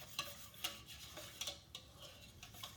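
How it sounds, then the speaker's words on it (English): Turkey gravy being whisked in a pan, rhythmic scraping strokes of a whisk against metal recurring every half second or so, close and fairly quiet. "what I'm going to do is whisk that"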